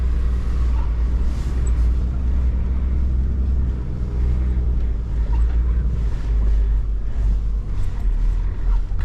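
A Rubicon 4WD drives onto snow on alpine plains, producing a loud, continuous low engine and tyre rumble with wind buffeting the microphone throughout, steady for about nine seconds.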